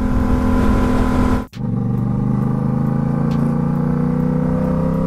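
A Yamaha MT-07 motorcycle engine drones loudly and steadily while riding, briefly dipping as the rider shifts gear, then resuming a strong, even pull as it keeps accelerating.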